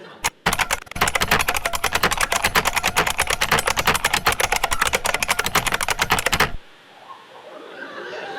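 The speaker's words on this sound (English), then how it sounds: "The IBM, the Model M keyboard, which had this very positive tactile feedback." An IBM Model M keyboard with its stiff, tactile keys is typed on rapidly, a dense run of loud, sharp clacks for several seconds before stopping abruptly, leaving faint room noise.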